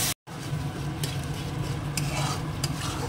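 A spice masala with a splash of water fries in a pan while being stirred hard, giving a close, constant sizzle marked by repeated spoon scrapes against the metal, with no voices.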